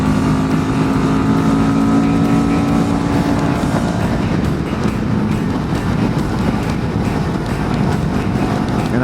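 A CFMoto CL-X 700 Sport motorcycle, a bored-out 650 twin, cruising on the interstate, heard as loud steady engine drone mixed with heavy wind rush, with a faint rising engine tone early on and no talking.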